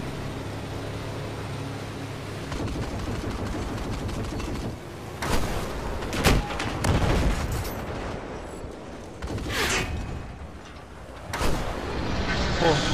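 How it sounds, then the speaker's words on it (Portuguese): Gunfire and explosions in the video game Battlefield 4 heard near a boat, several heavy booming blasts and crackling shots over a continuous rumbling engine drone. "pior que estão atirando em mim"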